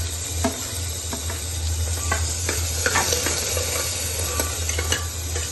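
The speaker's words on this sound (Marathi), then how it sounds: "पहिल्यांदा भोपळा टाकते, त्याच्यानंतर टोमॅटो आणि पालक" Pumpkin, tomato and spinach sauté in a pan with a steady sizzle, broken by frequent scraping and clinking stirs from a utensil. The cooking is close and continuous, and nobody talks.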